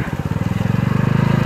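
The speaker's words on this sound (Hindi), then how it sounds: "बाइक का इंजन ऑफ कर लेते भाई" A motorcycle engine idles steadily up close with a rapid, even pulsing beat, running alone without talk on a trip to the Saikha waterfall.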